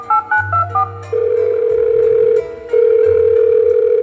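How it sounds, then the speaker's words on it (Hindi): A telephone being dialled: a quick run of loud electronic keypad beeps, then a long steady tone that breaks off briefly and resumes, loud and close. "अरे फोन लगाकर पूछ तो लूं कि"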